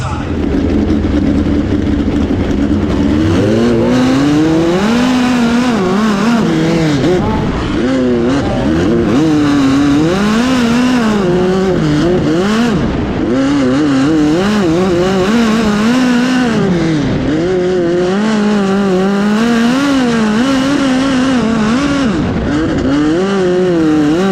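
Dirt track race cars tearing around a big-bermed oval during a heat race at DuQuoin, loud continuous engine roar rising and falling as the cars throttle through the corners, close and dominant throughout.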